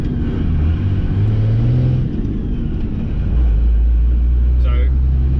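A car pulls away in second gear with a low rumbling engine that deepens and grows as it accelerates, heard from inside and partly under speech.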